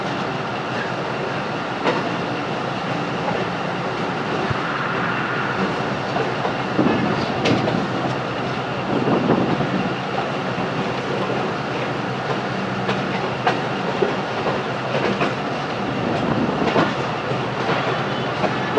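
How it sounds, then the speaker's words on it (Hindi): The Sialkot Express rolls out of Shahdara Junction on the Lahore to Sialkot line, a steady rumble with rhythmic clickety-clack of wheels on rails, heard from inside the carriage with no talk. "ट्रेन शाहदरा जंक्शन से चल पड़ी है"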